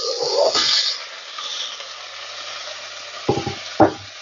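Potato pieces are tipped into a pot of translucent onions for a wild garlic, nettle and white dead-nettle soup, with a soft sizzle, a clattering drop near the start and a few sharp knocks near the end.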